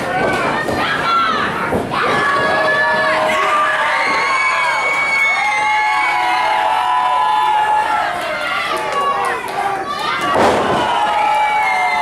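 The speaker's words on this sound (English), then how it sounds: "The screams are deafening." A pro wrestling arena crowd screams and cheers loudly and continuously, with shrill, children-like shouts and a thud from the ring around a body slam near the end.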